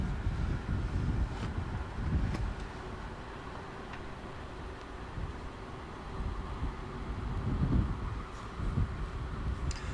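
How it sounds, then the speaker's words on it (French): Steady wind ambience from the FS Realistic sound mod in Microsoft Flight Simulator 2020, heard around a TBM 930 aircraft: a continuous low rushing roar with soft gusty swells, kept at a low, even level throughout with no talk. "Le bruit que vous entendez peut-être en fond, j'ai volontairement diminué le volume, c'est les effets sonores du vent."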